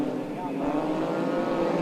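Turbocharged race cars, including a 4-cylinder 2-litre Mitsubishi Starion, drone steadily around Calder Park in a 1984 Group E Super Series heat while a commentator talks over the engine noise.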